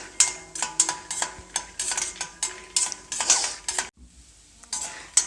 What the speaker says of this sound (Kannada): ಶೇಂಗಾ ಬೀಜನ ಒಂದು ಸ್ವಲ್ಪ ಫ್ರೈ ಮಾಡ್ಕೊಳ್ತೀನಿ